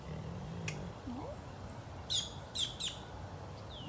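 Small birds give a few quick, high chirps, faint and a little distant, with a low hum and quiet room noise under them.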